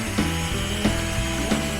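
A cordless drill straining and bogging down on a weak battery while working on an Excelsior-Henderson motorcycle, with three close, loud grinding bursts slowing under load at regular intervals.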